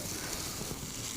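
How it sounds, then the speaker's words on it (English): French toast sizzles in a hot pan as a brief, faint, steady hiss with no talking. "I love that sound, like the sizzle"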